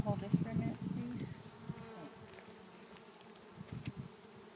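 Honeybees buzz around an open hive with wooden bars, a close, low droning hum that is strongest at the start and then fades to a softer buzz, with a few faint handling noises.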